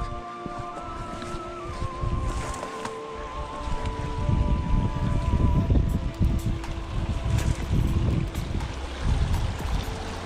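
A small mountain creek on the Continental Divide trail flows with a steady, close, broadband rush and gurgle. Gusts of wind on the microphone swell and fade over it.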